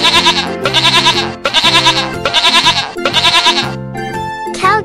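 A cartoon goat in an animal game bleats in four loud, close, wavering calls with short gaps between them, followed by brief chimes.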